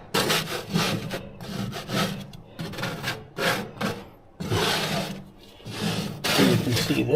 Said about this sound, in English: Sear plate scraped off.